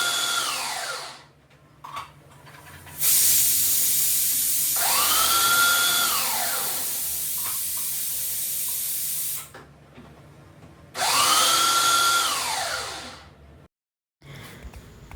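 A Preethi mixer grinder chops onions in two long, loud motor runs, each whining up to speed and winding down, with short quiet gaps between and no voices.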